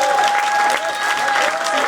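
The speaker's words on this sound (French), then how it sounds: "les applaudir chaudement." Warm applause from an audience at a charity fashion show, loud continuous clapping from many hands with a few voices mixed in.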